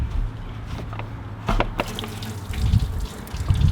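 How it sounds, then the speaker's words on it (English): Coolant water draining out of a Land Cruiser 1HZ/1HD diesel engine during a timing belt change outdoors, a steady close trickle and splash with a few louder clanks partway through. "so we let the water drain a little bit"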